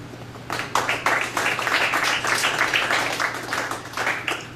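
An audience at a poetry reading claps after a poem, a close burst of scattered hand claps lasting several seconds.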